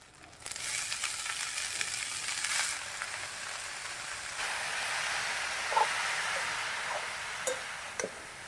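A continuous hiss of radish greens frying in a pan with fried coconut, rising after the first moment and holding steady, with a few faint knocks later on.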